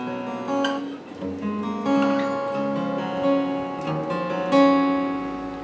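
An acoustic guitar strums the verse chords of a song in a steady, relaxed rhythm, ringing and close, with no voices.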